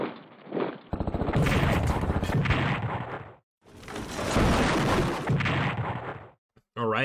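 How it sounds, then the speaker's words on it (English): Artillery fire in the WWII Pacific strategy game Strategic Command, two long rumbling barrages of booming shots, loud and close, separated by a short gap. "Artillery?"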